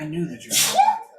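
A single quick sneeze bursts out amid a tabletop role-playing session, a short sharp breathy burst cutting into a man's speech.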